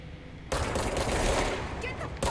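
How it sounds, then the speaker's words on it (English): A sudden burst of rapid gunfire erupts in the video game Control, loud and sustained for about two seconds with a final sharp shot at the end. "we're shooting our own people now?"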